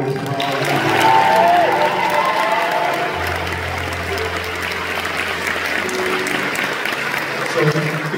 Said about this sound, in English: I want to give a big round of applause.